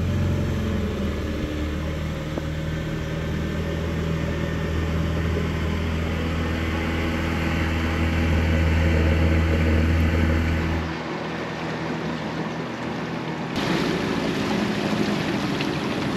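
A motorized dugout canoe moves up a shallow Amazon river in Ecuador, its engine giving a steady low drone with a tonal hum. The drone shifts and drops partway through, then resumes over the sound of water.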